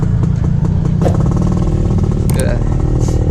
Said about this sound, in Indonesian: kita akan test ride nih motor dari Sigma, Yamaha Sigma tahun 98